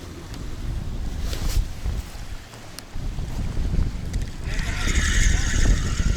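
Fisheries inspection boat passing on the Dnipro river, a rising engine drone with hull and water noise joining wind buffeting on the microphone toward the end, heard from a riverside beach, with speech nearby.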